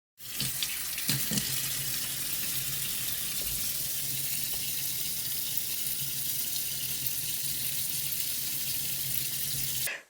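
Water runs steadily from a tap into a sink to wet a paper towel, a loud continuous close-up rush lasting about ten seconds with a few faint clinks, and no talking.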